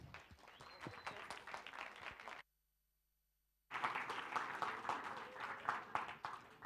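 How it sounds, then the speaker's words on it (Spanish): An audience at a talk on sustainable production applauds the arriving speaker, dense clapping that cuts out abruptly into a second of silence, then returns equally full and loud. "la recibimos con un fuerte aplauso."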